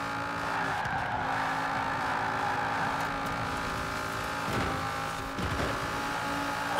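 A car in Forza Horizon 4 drives at speed, its engine droning steadily while tyres skid and scrape in a couple of sharp bursts near the end.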